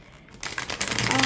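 Card shuffling of a stiff, new Phantomwise Tarot deck, a quiet start giving way to a dense riffle of rapid papery flutters, close up and moderately loud.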